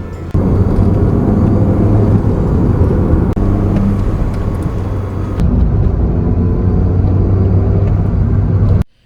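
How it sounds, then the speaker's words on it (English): A Mini with a newly fitted turbo and blow-off valve, heard from inside the car as a loud, steady engine drone and whir under acceleration, with a sharp drop and release near the end and a brief tail-off. "you can really hear that blow off sound really clear"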